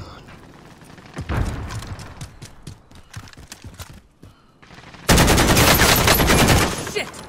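Gunfire in a battle royale shooter during a tournament match: scattered rapid shots and short bursts, then a loud, sustained automatic volley near the end, with a voice speaking over the action.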